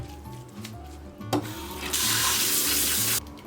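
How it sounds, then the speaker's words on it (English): Cold tap water runs over boiled soumen noodles in a sink, a faint trickle at first, then a sudden full rushing stream that pours steadily and loudly before cutting off near the end. "After boiling, they are cooled in cold tap water."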